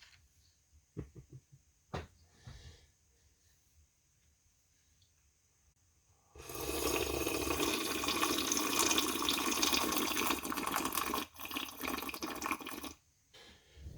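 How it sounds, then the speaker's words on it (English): Cups being washed in a sink, with a few light clinks and taps at first, then a tap turned on for a loud, steady rush of running water that stops briefly and resumes. "I do wash the cups eventually"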